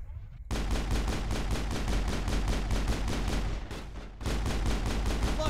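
Rapid automatic gunfire from the video game Mass Effect 1 rattles in a dense, continuous stream of shots, breaking off briefly near the end before resuming just as loud.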